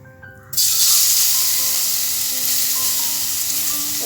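Ginger drops into a little hot oil in a pan for a Kerala-style inji curry and at once bursts into a loud, steady, close hissing sizzle that carries on evenly without talk.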